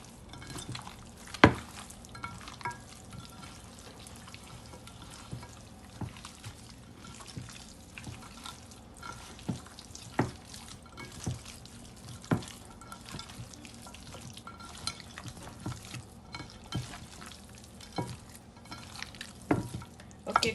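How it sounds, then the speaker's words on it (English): Curry mixture stirred into raw chicken pieces for Jamaican curry chicken, a steady wet squelching and scraping with scattered sharp clicks of the spoon against the bowl, close and moderately quiet, no talking. "2 tablespoons of my curry mixture in this, and we're going to combine everything together"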